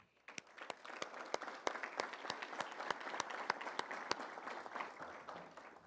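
Steady applause fills a municipal chamber in Campinas for Pastor Marcos Antônio Morales during a Reformation anniversary ceremony, a sparse, even clapping from a small audience with a few sharp, distinct claps standing out.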